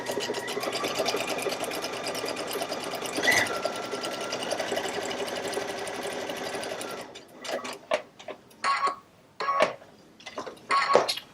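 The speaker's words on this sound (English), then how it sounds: "And sew the next or the third side." Sewing machine stitching quilt pieces together, a dense steady whir running continuously for about seven seconds before breaking into several short bursts as the seam is sewn and pivoted.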